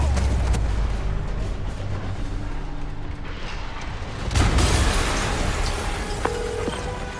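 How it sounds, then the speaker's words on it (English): An explosion in the video game Spider-Man Remastered on PS5, set at Fisk Tower, is heard as a loud sustained rumbling blast with a sharper burst partway through, then a dense roaring tail. "an explosion just..."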